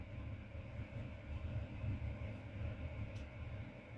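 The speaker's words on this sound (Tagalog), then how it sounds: "Tingnan niyo po, lumakas yung hangin." A steady low roar of strong wind fills the clip, rumbling and gusting unevenly with no voices.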